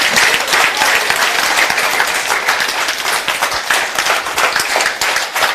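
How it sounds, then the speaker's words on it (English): Loud, steady applause and clapping from an audience at a live meditation and manifestation event at a pyramid venue, dense and continuous without a break, with no talk over it. "Let's give a big clap of applause to him."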